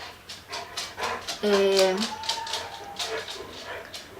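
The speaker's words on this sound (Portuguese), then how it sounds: "meu cachorro me desconcentrou" A pet dog indoors pants rapidly and breaks into a short, high, drawn-out whimper partway through, with the panting continuing close by afterward.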